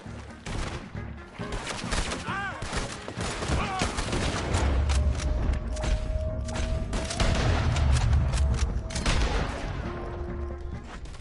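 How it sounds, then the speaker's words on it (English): Heavy gunfire from a shootout in Red Dead Redemption 2 crackles in rapid overlapping bursts with booming reports, sustained throughout amid shouting voices and game noise. "Open fire on him!"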